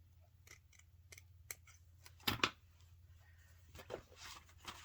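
Scissors snip through lace in a handful of small, quiet cuts, with a sharper cluster of snips in the middle, over a low background hum.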